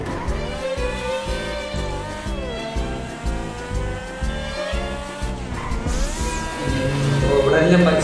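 A Lamborghini races along a road in GTA 5, its engine revving steadily with rising and falling pitch and brief tire squeals, loud and close, under game music and a talking voice.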